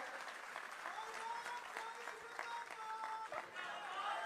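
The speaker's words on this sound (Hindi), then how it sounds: "तालियां नहीं रुकनी चाहिए साथियों, तालियों से ही कार्यक्रम की शोभा है।" A crowd applauds at a political event honouring a chief minister, steady clapping with some crowd chatter, under a tonal background of music or a voice.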